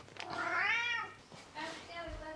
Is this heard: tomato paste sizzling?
no